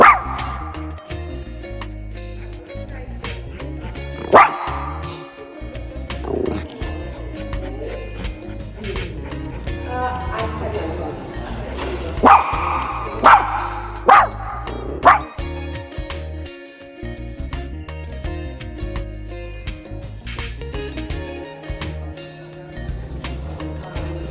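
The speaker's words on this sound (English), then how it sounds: "he's really just barking to let us know that he's feeling a lot" A dog barks in several sharp bursts, loud and close, over a steady background hum with some whimpering sounds between.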